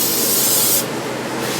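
A continuous close hiss of cooking spray coats a sheet pan for bagels, loud and steady for about a second before easing into a softer, duller spray.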